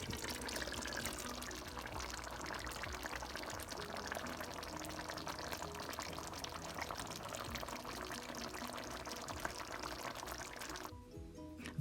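Oxtail in coconut milk with black pepper simmers in a pot, a steady close bubbling and gurgling that runs without pause and cuts off near the end.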